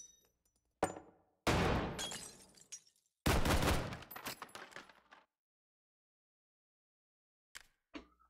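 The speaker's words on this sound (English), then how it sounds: "Flashbang out." A flashbang grenade bursts in the VR shooter Hot Dogs, Horseshoes & Hand Grenades with a loud sharp bang and ringing decay, between scattered clicks and sharp clacks.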